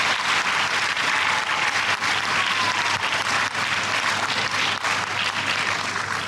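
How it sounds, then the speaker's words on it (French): A large audience applauds the President of the Republic at a public event in Togo, a dense, loud, sustained wash of clapping that continues steadily from start to finish without any speech. "Je vous invite à encore l'applaudir."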